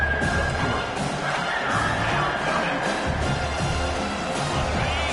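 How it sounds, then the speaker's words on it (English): A home crowd at a college football stadium roars and cheers on third down, a dense, sustained wall of noise with swells and scattered shouts, loud throughout. "Here comes this home crowd as the defense tries to get off the field on third down."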